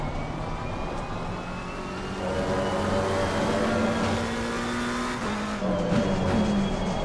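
Race car engine in the video game Assetto Corsa Competizione at Suzuka or the Hungaroring, climbing steadily in pitch as it accelerates, with a shift or two and a faint tire squeal, steady and fairly close.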